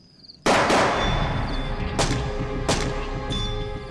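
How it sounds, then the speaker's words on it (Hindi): Sharp gunshots outside during a tense indoor period drama scene: a loud crack at about half a second, then three more spaced bangs with a metallic ringing tail, close and alone with no talk. "बाहर कौन गोलियां चला रहा है?"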